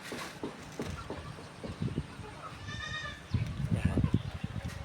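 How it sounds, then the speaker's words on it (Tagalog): Farm goats bleat in a wavering, quavering cry partway through, with someone talking over the scene and shuffling livestock noise around them. "Sa baba, andyan yung mga kambing natin."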